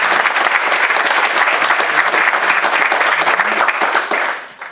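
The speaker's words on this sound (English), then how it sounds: "So we will give her a round of applause" Sustained, dense applause from an audience at a college art commencement ceremony (BFA, MFA, certificate and post-baccalaureate), loud and steady throughout, then fading slightly at the end, with no talk over it.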